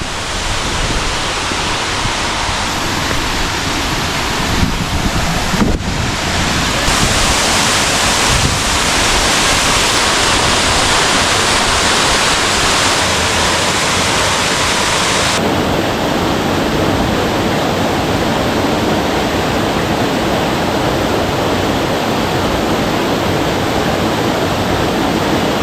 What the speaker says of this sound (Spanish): Una cascada muy linda.